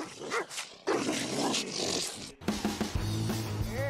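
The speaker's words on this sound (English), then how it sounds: "That's right, Chorkies like to bark," A small Chorkie, a Chihuahua and Yorkshire terrier cross, barks and growls in short, close bursts, the sharp yaps broken by a scuffling, zipper-like rasp and some music late on.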